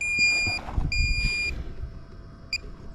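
Metal detector sweeping over buried foil-like target outdoors, sounding two sustained electronic beeps of about half a second each, then a brief short chirp, over low rumbling handling and ground noise.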